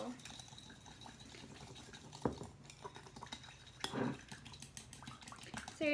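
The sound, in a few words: stirring Mongolian beef steak in a pan with chopsticks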